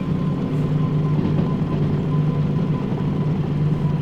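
A DE6 diesel locomotive brakes in the Derail Valley train simulator, giving a loud, steady, droning engine rumble with a constant tonal hum that holds throughout.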